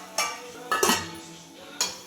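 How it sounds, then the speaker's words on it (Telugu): A spoon stirring chicken curry in a pan after coriander goes in, with three short scraping clinks of metal against the pan spaced across a couple of seconds, close and fairly quiet. "మనం కాస్త కొత్తిమీర వేసేసుకొని మళ్ళీ ఒకసారి కలుపుకుందాం."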